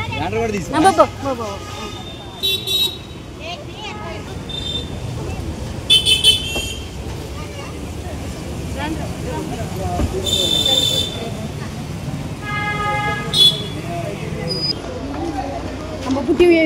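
Car ride to an engagement, with road traffic rumbling around the vehicle and several short horn toots sounding at intervals while people talk throughout.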